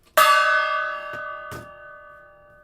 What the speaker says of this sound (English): Let's get a gong for the Reds and Greg Philippi.